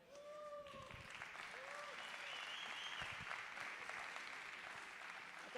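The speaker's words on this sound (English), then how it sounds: "So I want to give it a round of applause to Alejandra." Audience applause fills a hall at the FAB24 Symposium on Innovative Industries, a dense, steady clapping that runs throughout, with a few whoops and cheering voices rising over it near the start.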